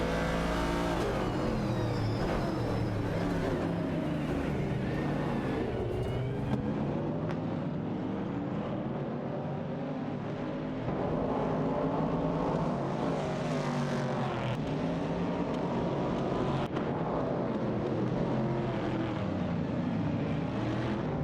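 Several race cars in a racing video game accelerate down a straightaway, engines droning steadily and loudly throughout with layered overlapping whine and no talk.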